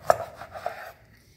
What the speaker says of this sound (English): We're going to cut our lime in half.